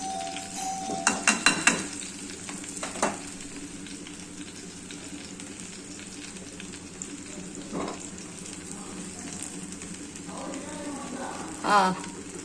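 Cumin and mustard seeds frying in hot, bubbling oil in a home kitchen, a steady sizzle carrying throughout with a few sharp clinks of a utensil against the pan and a voice speaking at times.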